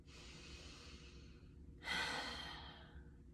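A long, slow deep breath drawn in and then released as a soft sigh, close and alone, taken during a tapping exercise.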